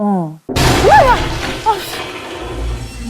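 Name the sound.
huge wave crashing into a ship like thunder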